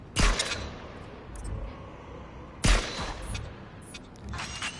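Precision rifle in the Farpoint PSVR video game, two sharp, loud shots about two and a half seconds apart, each with a short crack and decaying rumble, quieter noise between.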